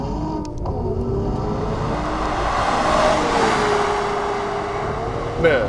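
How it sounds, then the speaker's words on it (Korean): A 2017 Mercedes-AMG GLC 43 coupe engine idles and hums steadily with a low rumble, fairly close, rising slightly in the middle before a brief bump at the end. "엔진 사운드 들리시나요?"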